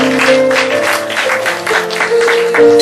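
Church congregation clapping during an afternoon service, a short burst of many hands over a sustained tonal organ or keyboard background, loud and close.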